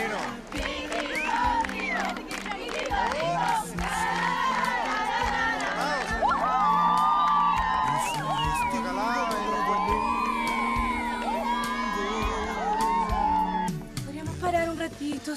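A group of university students shouts and whoops together, loud and close, with rising cheers and chant-like calls, and voices talking among the noise.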